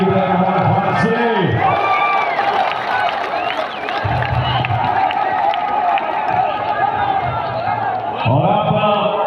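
A large outdoor political rally crowd in Swabi cheers and claps continuously, a dense roar with whoops, while someone speaks loudly over it through amplification.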